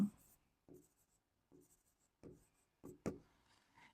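Marker strokes on a board during a Bengali linear algebra lesson, several short scratchy bursts spaced apart, with faint voice fragments between them.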